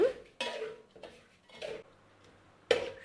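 Stirring palada payasam in a pot with a spoon, giving a few separate scraping, clinking strokes against the metal, each short and fairly close, spaced out with quieter gaps between.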